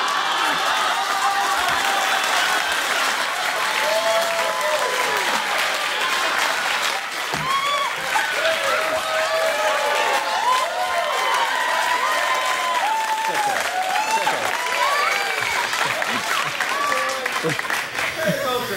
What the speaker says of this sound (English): I haven't done it yet, so why are you applauding?